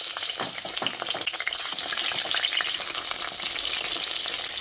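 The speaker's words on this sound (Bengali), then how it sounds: "এই নুন হলুদ মাখিয়ে রাখা বেগুনগুলোকে" Eggplant pieces rubbed with salt and turmeric frying in hot oil in a wok, giving a dense, continuous crackling sizzle at close range with a few faint stirring movements.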